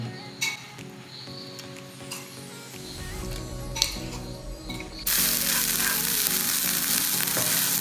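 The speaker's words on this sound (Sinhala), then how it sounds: "අපි pan එකට තෙල් ටිකක් දාගෙන අපේ chicken paste එක දාගමු." Chicken paste drops into hot oil in a pan and sets off a loud steady sizzle after a few clinks and scrapes of utensils, with the frying growing stronger and continuing close by without any talk.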